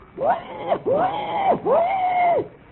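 A performer's voice imitates the cry of a wild boar for a radio comedy jungle scene: three rising-and-falling squealing cries in a row, close and fairly loud.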